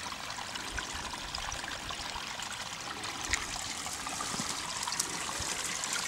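Spring water at Mule Springs, flowing about 2 gallons a minute, runs in a steady, continuous trickle and stream close by, a full even flow with no voices over it.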